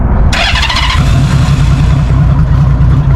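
A cold engine is loud and close, starting up and then revving with a rough, steady roar.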